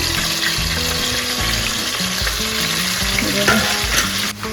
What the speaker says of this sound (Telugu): ఆయిల్ కాగిందండి ఇదిగో మరి ఉల్లిపాయలు తర్వాత పచ్చిమిరపకాయలు వేస్తున్నాను